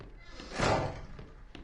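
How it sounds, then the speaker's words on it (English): A door in Resident Evil 7 swings shut hard with a single muffled heavy thud in the middle of an otherwise quiet moment. "That door closed a little hard."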